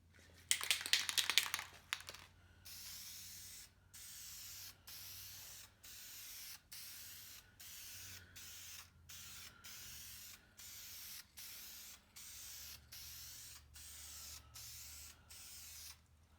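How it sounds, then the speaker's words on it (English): Duplicolor Primer Series 2-in-1 filler primer hisses from an aerosol can onto a 1965 Austin-Healey 3000, after a brief rattle, in steady, regularly spaced spray bursts separated by short pauses, close and fairly loud. "I will be spraying some 2-in-1, I think it's filler primer, just to get something on it to protect it a little bit."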